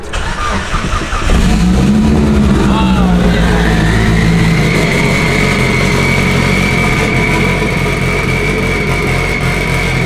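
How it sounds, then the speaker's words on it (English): A 1000hp Mitsubishi Evo cold-starts: a brief crank, then the engine catches and flares up loudly before settling into a high, steady idle that drones on close by, with voices talking over it. "Let's get a cold start on the Evo"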